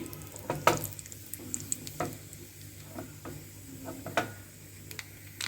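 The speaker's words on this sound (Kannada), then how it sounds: "ನೋಡಿ ಒಗ್ಗರಣೆ ಚೆನ್ನಾಗಿ ಚಟಪಟ ಅನ್ನೋದು ಸ್ಟಾರ್ಟ್ ಆಗಿದೆ" Quiet popping and crackling of spices and a dried chilli tempering in hot oil, with irregular sharp snaps over a soft sizzle.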